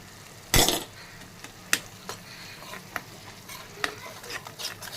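A spoon scrapes and clinks against a pan as Kashmiri masala is stirred into a paste, with a loud first scrape and then intermittent knocks over a low sizzle.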